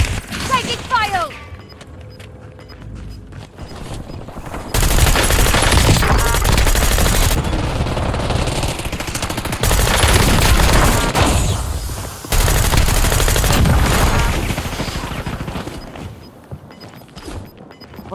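Gunfire in Call of Duty Warzone, loud sustained bursts of automatic fire in several long stretches with quieter gaps between them, while players talk over it.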